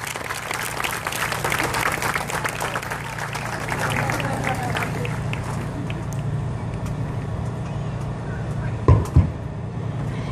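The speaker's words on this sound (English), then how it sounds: "Give her another round of applause for support" A crowd applauds steadily at an outdoor charity walk for ovarian cancer, the clapping dense at first and then thinning out, with traffic rumbling behind it and a few louder bumps near the end.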